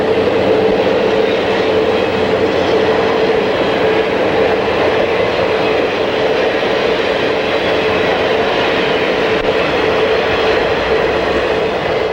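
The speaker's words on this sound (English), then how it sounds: "This long train carries all matched cars in the beautiful orange and chocolate brown paint scheme." A long Illinois Central passenger train of matched cars rumbles steadily past at close range, a continuous loud roar of rolling cars with faint clickety-clack, no voices.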